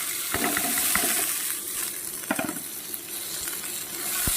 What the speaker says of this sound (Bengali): এবার একটু নেড়ে চেড়ে ভেজে নেব